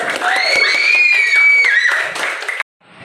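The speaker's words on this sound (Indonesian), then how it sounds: "beri aplaus untuk kelompok 1" A classroom audience claps and cheers for a student group after their reproductive health presentation: a dense burst of clapping with raised voices and shouts that runs steadily for over two seconds and then cuts off abruptly.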